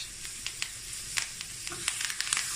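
Chanterelle mushrooms frying in a pan crackle and sizzle faintly while being stirred, with small spitting pops and light scrapes, close and without talking.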